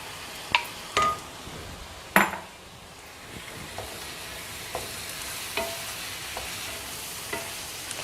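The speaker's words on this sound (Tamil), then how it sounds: "நல்லா கலந்து விட்டுங்க." Chopped tomatoes stirred into frying bitter gourd chutney in a pan, soft sizzling under a few sharp scrapes and clinks of a spoon against the pan.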